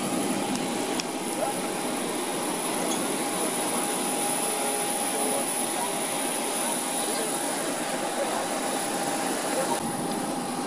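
Military jet aircraft performing at the Malta Air Show 2016, a steady loud roar of engine noise filling the whole stretch without break, with faint crowd chatter underneath.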